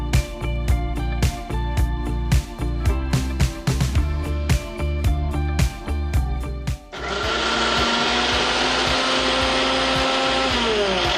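Blender coarsely grinding lentils for soup, first in short choppy pulses with knocking, then a continuous loud whirring motor roar for several seconds, close by.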